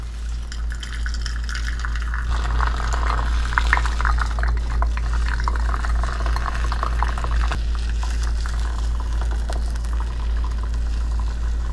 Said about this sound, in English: So I pour it around the edges.